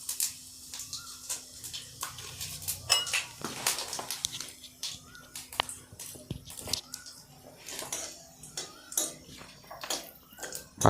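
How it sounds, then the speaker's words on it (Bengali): Panch phoron and a dried red chilli frying in hot oil, with sputtering crackle and repeated clinks of a utensil against the pan, close and fairly loud throughout. "তেল গরম হওয়ার পর আমি এতে দিলাম অল্প পরিমাণে পাঁচফোড়ন, আর তার সঙ্গে দিলাম একটা শুকনো লঙ্কা"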